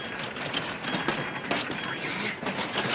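A train at a railway station, with a service boarding for Detroit and Buffalo, gives a steady, loud rolling rumble with faint clicking wheel noise throughout, and no voices are heard.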